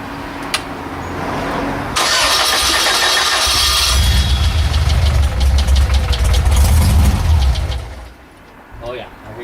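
A test engine running on gaseous fuel cranks, catches and runs roughly with a steady mid-pitched rumble for several seconds, then cuts out, with people talking nearby.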